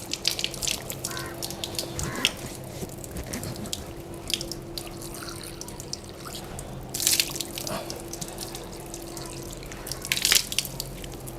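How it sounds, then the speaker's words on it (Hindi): Tap water splashes over hands as the left hand is washed during wudu, a continuous close running stream broken by drips and brief louder splashes, with no speech. "बाएं हाथ धोना है"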